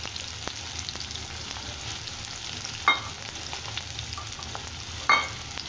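Green chili and onion sauté together in a pan for a tomato chutney. The sizzle is steady and close, and two brief scrapes of stirring break through it.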